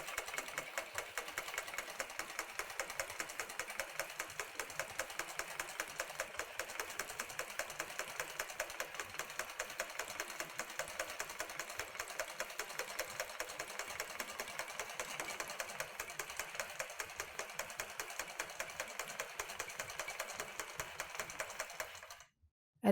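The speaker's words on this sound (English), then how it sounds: "Now I'm going to stitch it and just go back and forth." Sewing machine stitching a quilt back and forth, a rapid, even needle chatter that runs close and steady before stopping abruptly near the end.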